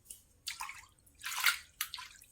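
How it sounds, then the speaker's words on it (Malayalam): Floodwater entering a house near the kitchen gushes and splashes in several uneven surges, fairly close and moderately loud, with quiet gaps between bursts. "അടുക്കളയിലും കയറാൻ തുടങ്ങി വെള്ളം."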